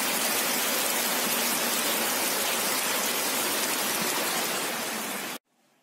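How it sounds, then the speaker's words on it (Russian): Steady summer rain falls in the seaside village of Yantarny, Kaliningrad region, a dense, even hiss with no voices that holds unchanged until it cuts off abruptly near the end. "Долгожданный дождик."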